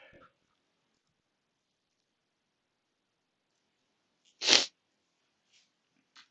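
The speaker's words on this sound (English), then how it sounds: "I'm going to sneeze in a sec" A single sharp sneeze bursts out close to the microphone in an otherwise near-silent room during a live markets stream, with brief faint noises before and after it.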